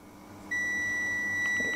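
A digital multimeter's continuity buzzer, triggered on a zero-ohm resistor, sounds a steady high electronic tone that starts abruptly partway in and holds without a break to the end.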